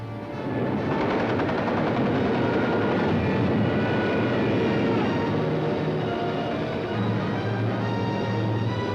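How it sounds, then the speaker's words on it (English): German bombers and gunfire over London in a 1943 wartime film: a loud, continuous roar of aircraft engines with crackling, rattling bursts of fire throughout, dense and steady for the whole stretch. "Some of the German bombers broke through London's defenses"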